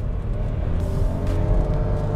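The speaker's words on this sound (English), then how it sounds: "There is some engine noise only when you're doing hard accelerations." The engine of a 2023 Nissan Kicks e-POWER drones under hard acceleration, heard from inside the car as a steady mid-low hum and whir with a slight rise in pitch across a couple of seconds, no talking.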